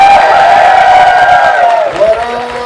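A loud convention crowd cheers, whoops and claps for the Power Rangers Zeo cast at a fan reunion, a dense roar that stays strong and then eases slightly near the end.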